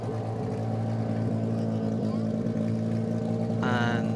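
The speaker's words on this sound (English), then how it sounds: "Engines beginning to come to life." GTLM sports racing cars at Monterey qualifying in 2021, a steady loud engine drone with idling tones and a brief rising rev near the end, under continuous commentary.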